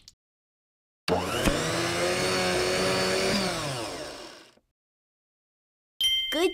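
A blender in a children's educational smoothie game whirs for about three seconds at a steady pitch and then winds down to silence. Another brief mechanical burst starts near the end.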